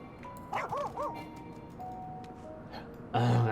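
A puppy in the video game Final Fantasy XIV gives a few quick, high whimpering yips close up, followed by quieter game ambience and a louder burst at the end.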